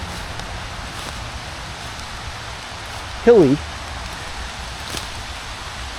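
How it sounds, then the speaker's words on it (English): Light rain patters steadily on leaves in woodland, a soft, even hiss close around the listener, with a brief spoken word cutting in midway and a faint crack later on. "It's raining today"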